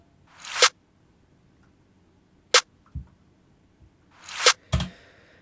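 A reversed snare sample swells out of silence into a sucking whoosh that cuts off abruptly. It comes twice, mixed with a few short, dry percussive clicks and thuds.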